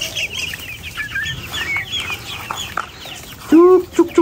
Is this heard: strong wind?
no